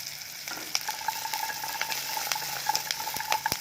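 Indonesian curry paste frying in a pan as palm sugar is added, a close crackling sizzle with rapid clicking spatter and scattered metallic taps, no one speaking.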